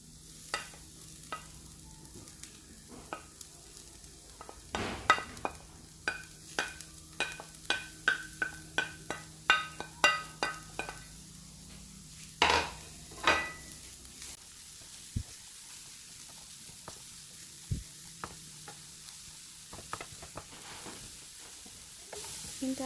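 Grated carrots and chopped onions being stirred into frying meat for sambusa filling: a soft steady sizzle beneath a long series of sharp spoon scrapes and clacks against the pan, slowing toward the end.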